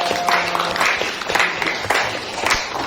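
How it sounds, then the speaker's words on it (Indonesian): Classroom applause for Indonesia, a dense wash of many hands clapping steadily for about three seconds, fairly loud and continuous with no voices over it. "Tepuk tangan untuk Indonesia."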